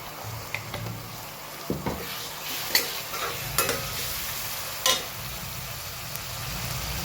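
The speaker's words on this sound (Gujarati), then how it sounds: "હવે ટમેટા એડ કરી લઈએ" Tomatoes cooking in a pan with green chillies, giving a steady soft sizzle and frying hiss broken by several distinct stirring scrapes and clinks of a spoon; no one speaks.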